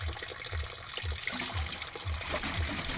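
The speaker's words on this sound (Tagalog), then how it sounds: "Dagan kay tubig guys." Spring water running and trickling steadily outdoors, a continuous close splashing flow with a faint low rhythmic thumping beneath.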